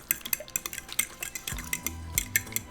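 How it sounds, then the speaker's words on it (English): A carne asada marinade of olive oil and lime-orange juice is stirred in a bowl, with a quick run of close utensil clinks and scrapes against the dish and a low thump midway through. "So we're just going to mix it all together."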